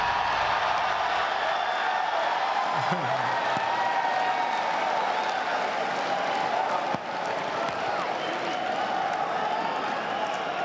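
A large crowd at the E3 2015 gaming expo cheers and applauds an announcement, a dense, steady roar of clapping and shouting that fills the hall for about ten seconds and barely changes in level.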